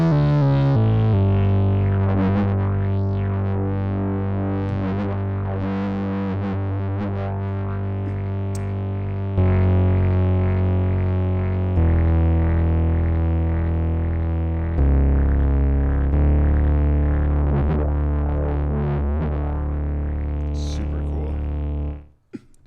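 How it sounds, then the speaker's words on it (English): Novation Bass Station 2 synth bass distorted after the filter, a thick buzzing low end holding long sustained notes that change pitch every few seconds, loud and continuous, with filter sweeps and a sudden cutoff at the end. "you can hear how distorted it is, even the low end, because it's coming after the filter"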